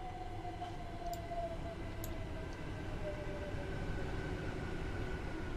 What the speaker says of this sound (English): That train has come into the platform lovely